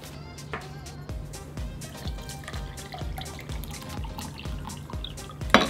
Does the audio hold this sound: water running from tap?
yes